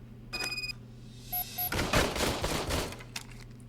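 Service pistol fired in a calibration test in Robocop: Rogue City, a few distinct shots with electronic beeps, followed by a louder burst of rapid gunfire that trails off.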